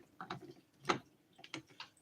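A plastic sprayer attachment for a flea and insect pump sprayer being twisted onto its fitting and clicked into place, a few quick close clicks and scrapes spread over about two seconds.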